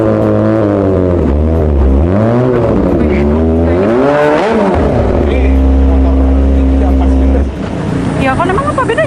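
A new two-cylinder motorcycle engine revs loudly up close, its pitch repeatedly climbing and dropping before settling into a steady idle-like drone near the end.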